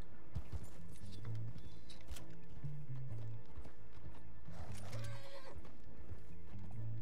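Horse hooves clip-clop at a gallop in a cowboy video game, with a loud neigh and whinnies rising over the steady hoofbeats and game background sounds.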